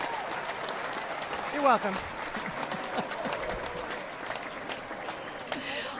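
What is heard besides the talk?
audience applause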